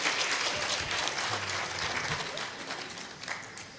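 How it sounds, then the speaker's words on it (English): Conference audience at a Yerevan forum gives a round of applause, dense clapping that is loudest at first and gradually thins out, with a few stray claps near the end. "So please applaud to all my Armenian friends."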